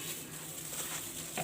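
Faint scraping and a soft sizzle as sauce is stirred in a pan with salt dissolving into it, for a lamb shoulder dish, brief and quiet, with no voices.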